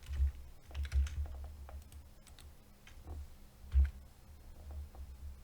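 Commands being typed on a computer keyboard while configuring a Bitcoin server, with irregular close, quiet key clicks and a few louder taps, no talking.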